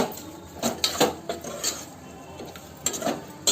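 A metal spoon stirs salt into a curry leaf mixture in a pan for curry leaf rice, with a few close scraping and clinking strokes against the pan, then a brief pause before the last clanks.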